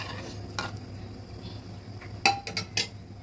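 Mixed dal with slit green chilies and added hot water is stirred in a cooking pot, giving soft scraping swishes over a faint background hum, then a few brighter clinks of a spoon against the pot near the end.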